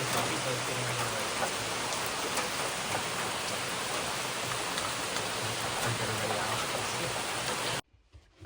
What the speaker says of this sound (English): The rain has increased. I'm gonna get wet.